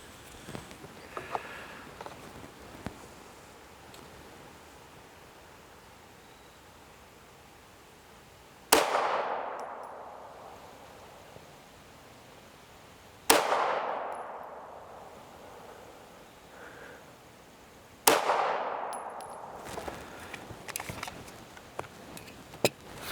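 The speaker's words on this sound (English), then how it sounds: "Take the next 3 shots, and we'll go from there." Three loud, sharp suppressed shots from a CZ P-07 pistol fired at a target, spaced about four to five seconds apart, each with a quick decaying echo, over faint background noise and no talk.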